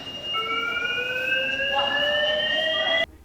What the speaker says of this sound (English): the fire alarm actually went off in a movie theater